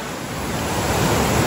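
Mohawk Falls in Ricketts Glen State Park rushes with a steady, loud broadband roar of falling water, close and unbroken throughout.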